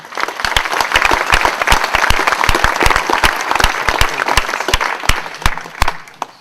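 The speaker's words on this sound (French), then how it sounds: "si vous pouvez l'applaudir" A live audience in a hall at Muraz Collombey applauds for Didier, who runs the montage: dense, steady clapping with sharp individual claps standing out, sustained throughout and tapering slightly at the end.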